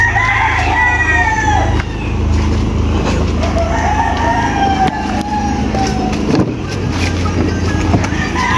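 Young gamecock stags crow repeatedly on a farm, with several drawn-out calls overlapping at mid distance against a steady background hum.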